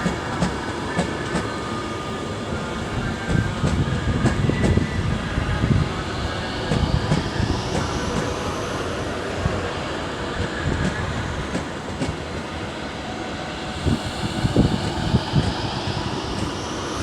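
A train stands and moves at Stafford station on the West Coast Main Line, with a steady rumble and rail noise throughout and a rising whine as it gets ready to depart.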